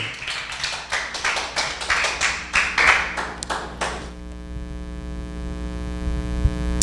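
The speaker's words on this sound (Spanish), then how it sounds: "Denle un aplauso fuerte al Señor." A church congregation clapping for the Lord during a Spanish-language sermon: a few seconds of rhythmic, fairly loud group claps that stop abruptly, leaving a steady electrical hum with a faint ringing tone.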